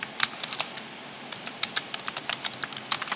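Quick bursts of keystrokes on a computer keyboard while writing a CV in MS Word, crisp clicks in an uneven rhythm, close and fairly quiet, with no talking.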